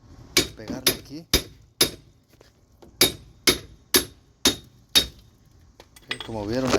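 Hammer striking a 2003 Nissan Murano front hub assembly, about ten sharp metallic bangs at a steady, roughly half-second rhythm, close and loud, with brief quiet gaps and a faint voice near the end.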